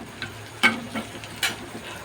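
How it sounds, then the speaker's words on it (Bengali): Salted onions frying in a pan, a quiet soft sizzle punctuated by a few sharp clicks and scrapes of stirring, with no talk. "পেঁয়াজটা একটুখানি লাল লাল করে আমাদের ভেজে নিতে হবে।"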